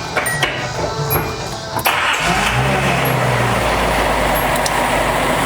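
Engine of a 1979 Datsun 280ZX revived after sitting abandoned for a decade: after a quieter start, a loud, close, steady engine drone takes over at about two seconds and holds without pause.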